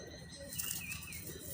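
Madras pigeons flap their wings in a brief, soft burst of fluttering close by. A few faint chirps are mixed in with the flapping.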